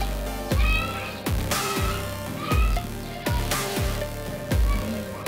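A cat meows repeatedly in a steady series of loud, close calls, each rising and falling, with a faint rumble underneath and no talking.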